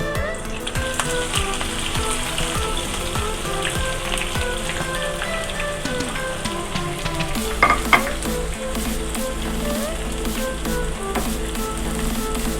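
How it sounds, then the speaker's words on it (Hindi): Onion and white cumin frying in hot oil for a Malka masoor dal, a steady loud sizzle with scraping stir strokes and a brief clatter near the middle, no voices. "तो ऑयल मेरा जैसे ही थोड़ा सा गर्म होता है, तो इसके अंदर हम ये प्याज ऐड करेंगे"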